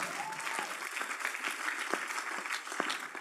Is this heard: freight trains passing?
no